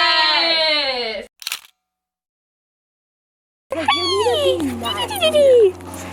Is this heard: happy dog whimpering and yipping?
yes